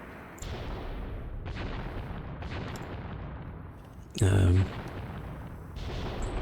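Gunfire rattles through a Graviteam Tactics battle, stray shots crackling at a distance over a rumbling din, with one louder close burst partway through.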